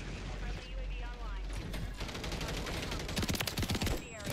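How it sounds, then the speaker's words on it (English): Rapid bursts of gunfire from a Call of Duty match, with repeated shots and automatic fire growing denser and louder toward the end, heard close over continuous game noise. "our teammate is shooting at me"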